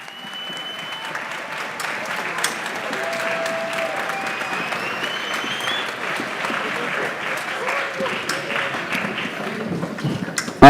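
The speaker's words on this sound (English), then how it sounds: "If you guys can take a picture and clap them on from them" A band-concert audience gives steady, moderately loud applause for senior Winter Guard students, with an occasional whoop and a few scattered voices mixed into the continuous clapping.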